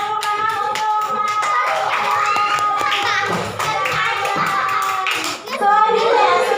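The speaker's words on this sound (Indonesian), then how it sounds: "tepuk tangan untuk Mas" A class of children claps for a student, with loud, close hand claps that hold through a short pause before a final burst, while children's voices can be heard over them.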